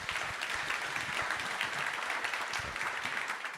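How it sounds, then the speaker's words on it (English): Steady applause from an audience at an investment summit panel discussion, a dense wash of clapping at moderate distance that carries on without a break. "can we give them a round of applause"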